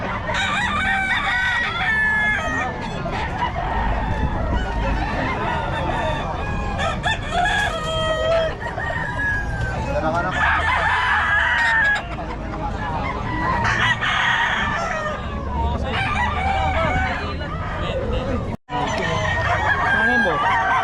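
Black McRae gamefowl roosters crow loudly and repeatedly, several long calls overlapping with clucking from other birds close by, voices chatting in the background.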